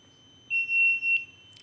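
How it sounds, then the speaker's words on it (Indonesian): A relay-triggered buzzer on a ship's Bridge Navigational Watch Alarm System (BNWAS) built on an Outseal Mega V1 controller sounds a steady high-pitched tone for under a second, clear against a quiet background, followed by faint clicks. "Relay menyala sehingga buzzer aktif."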